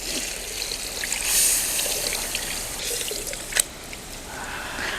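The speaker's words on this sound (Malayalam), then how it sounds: "പുളിവെള്ളം നമുക്ക് ഇതിലേക്ക് ഒഴിച്ചു കൊടുക്കാം." Tamarind water poured into a big pot of Kerala-style fish curry, a steady liquid trickle with a soft splash near the end, fairly close and with no talking.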